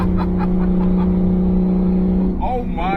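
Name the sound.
715 whp single turbo N54 BMW 335i accelerating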